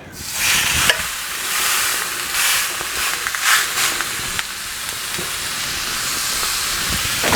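A sous vide steak dropped into a hot cast iron pan sears with a loud, steady hiss that fills the whole stretch, with faint scrapes now and then and no speech.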